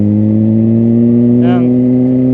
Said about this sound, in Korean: 배기음도 찍을 겸